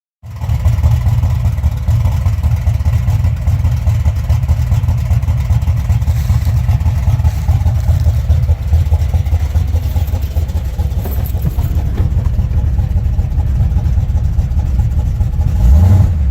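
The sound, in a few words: car engine driving off on the road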